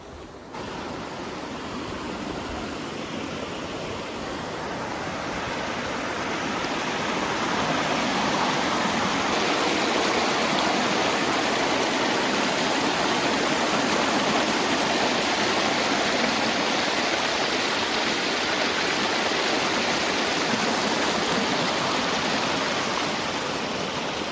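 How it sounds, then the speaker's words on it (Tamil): Steady rushing river water runs without a break, a broad, even wash of flow that swells slightly midway and holds close and loud throughout. "கொஞ்சமாக தண்ணி இருந்தாலும் கொஞ்சம் சத்தம் கேட்குதுன்னு நினைக்கிறேன் உங்களுக்கு"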